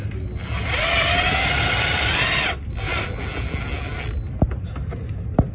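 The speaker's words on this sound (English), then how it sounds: "I have to drill the bottoms and the sides" A power drill bores into the side skirts on a 10th-generation Honda Accord, an X Gen Hi Rev / YOFER set. A loud whirring burst lasts about two seconds, then a shorter second run follows, and a few sharp clicks come after.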